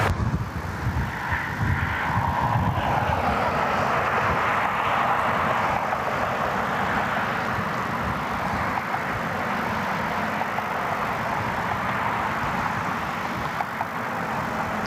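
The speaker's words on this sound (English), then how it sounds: "Southwest 737 MAX came in from Midway." A Southwest Boeing 737 MAX jet arriving at Cleveland Hopkins airport, its engine roar loud and steady, broad and rumbling, slowly easing off over about fifteen seconds with no talk.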